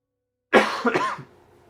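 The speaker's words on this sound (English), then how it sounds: "apologies for the coughing" A single harsh cough bursts out close by after silence, trailing into a brief throaty rasp.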